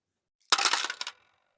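A short bright jingle of metal coins shaken or dropped in a bag, a brief dense cluster of clinks lasting about half a second, close and alone against silence.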